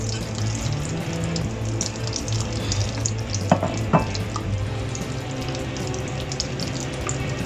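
Onions sizzle and fry in hot oil for a beef do piyaza curry, a dense, steady crackle close up with a couple of brief clinks from stirring.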